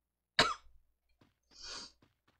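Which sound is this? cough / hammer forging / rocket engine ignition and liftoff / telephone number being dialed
cough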